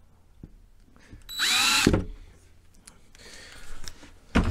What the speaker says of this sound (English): I'll just use this tiny little drill